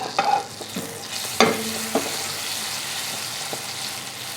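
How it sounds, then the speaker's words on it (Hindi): Three slit green chillies fry in a pan of melted butter, giving a soft, steady sizzle with a few light clinks and stirring scrapes near the start. "एक क्यूब ऑफ बटर को मेल्ट होने देंगे। इसमें 3 हरी मिर्ची मैंने स्लिट करके ली है।"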